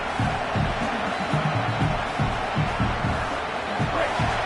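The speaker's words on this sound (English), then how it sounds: "The roar of the crowd trying to fuel this defense to keep them pinned in their own end" Steady crowd roar fills a college football stadium during a Miami vs Michigan game, a dense, continuous wash of voices with faint low pulses and whoops rising through it.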